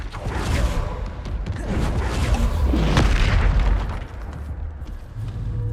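A loud, booming blast from the Bombarda spell in the video game Hogwarts Legacy, with a sustained roaring rumble and layered bursts that swell over several seconds before easing off.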